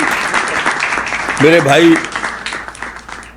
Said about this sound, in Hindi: आप लोग जबरदस्त तालियां बजाएं